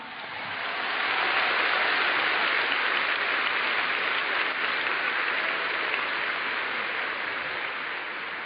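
A large audience at a spiritual retreat talk in Brazil claps together in dense, sustained applause that swells within the first second and holds steady at a loud level for the rest of the stretch, with no speech over it.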